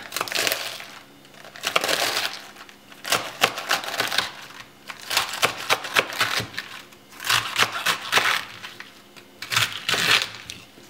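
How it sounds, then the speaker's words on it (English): A knife cuts through a large head of romaine lettuce on a board, giving repeated crisp, crunchy chopping bursts in uneven clusters, close and fairly loud, with no talking. "I just take the head of romaine lettuce, and no particular way, these are like pretty big leaves, so I just kind of cut into it"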